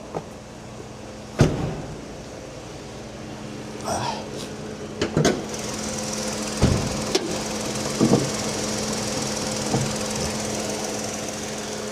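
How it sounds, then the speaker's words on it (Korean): A Hyundai Casper's engine idles steadily with a low, even hum, broken by a few sharp knocks and clunks, while someone talks over it. "이 정도 엔진 소리는 정상에 속한다 네, 캐스퍼는 다 똑같은 이 정도 엔진 소음을 갖고 있다"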